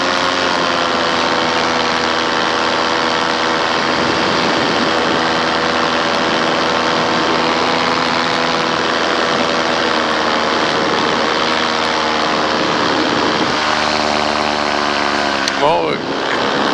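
Paramotor engine running in flight, a loud constant droning propeller buzz with a steady tone under wind rush, shifting pitch slightly near the end.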